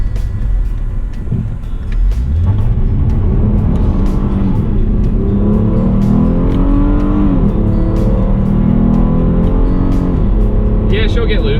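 A 2016 Hyundai Genesis Coupe 3.8 accelerates hard, its engine note climbing and shifting through repeated rising sweeps, loud and close from inside the car while someone talks over it.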